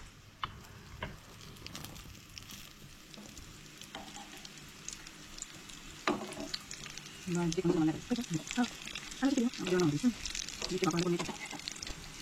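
Konkani monsoon snacks frying in a pan, a steady sizzle and crackle that swells louder in the second half with bursts of spattering, while someone speaks over it.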